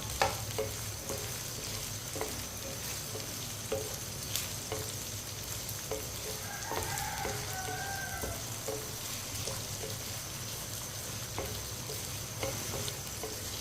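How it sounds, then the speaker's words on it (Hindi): Okra (bhindi) fries over fairly high heat in a pan, a continuous close sizzle broken by regular scraping stirs, with no talking. "भिंडी को 1 मिनट के लिए फ्राई कर लेंगे।"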